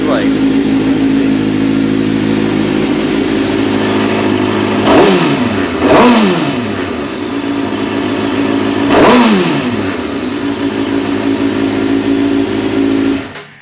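A 2005 Suzuki GSX-R 600 sport motorcycle engine idling loudly up close, with three sharp throttle blips that rise and fall in pitch before it settles back to a steady idle.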